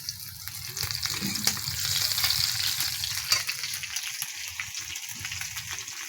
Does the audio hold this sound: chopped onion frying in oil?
yes